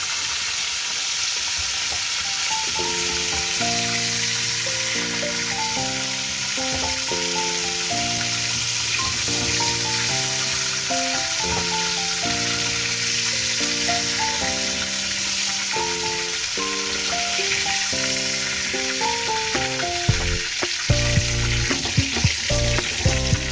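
Chicken pieces fry in a pan for a light, mildly spiced chicken curry, giving a steady, continuous sizzle and hiss beneath background music.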